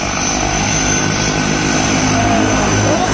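A loud, steady propeller aircraft engine drones continuously nearby, a constant roar with a high whine on top.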